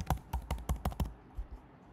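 Quick burst of about seven keystrokes on a computer keyboard as a new password is typed, close and crisp, followed by a couple of slower taps and then quiet.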